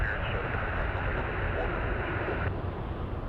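A WestJet Encore aircraft on flight 3318 from Vancouver at Kelowna airport gives a steady, broadband engine roar that holds at a constant level throughout, with no break or pause.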